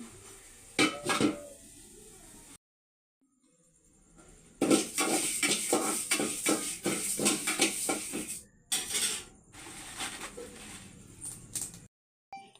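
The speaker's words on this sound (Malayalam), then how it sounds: "അപ്പം ഞാൻ അടുപ്പിലാണ് അരി വറുക്കുന്നത്" Scraping and clattering of a utensil against a pan in repeated bursts as rice is roasted over a stove, with a short quiet gap, close by and fairly loud.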